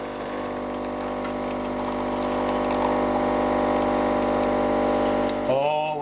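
Drip coffee maker brewing, a steady pumping, gurgling hiss that holds for several seconds before shifting into bubbling sputters near the end, close and continuous.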